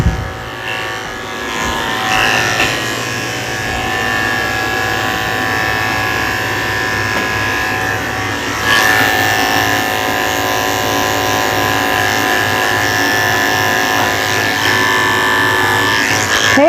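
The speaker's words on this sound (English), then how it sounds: "So I'd be careful not to catch his skin in the clipper." An electric clipper buzzes steadily through the coat of a Cavalier King Charles Spaniel at a groomer, a close continuous hum with slight shifts in pitch as strokes change, no talking.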